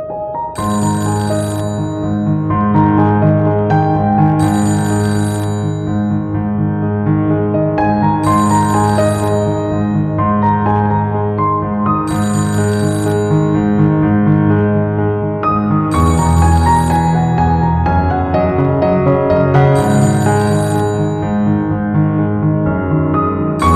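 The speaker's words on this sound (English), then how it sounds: "My phone is ringing!" A phone ringtone plays loud and steady, a repeating melodic ring pattern looping with regular bursts and no talk over it.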